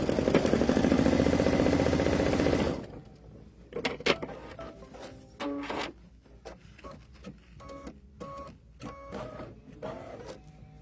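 An embroidery machine stitches an appliqué placement line, opening with a loud, dense mechanical whir of about three seconds that gives way to scattered clicks and short whirring bursts.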